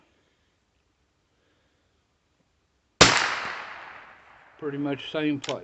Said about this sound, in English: No, I want to shoot again.